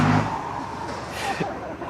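A car engine revs close by on a street, a broad rough roar with a rising surge near the end, running alone without talk.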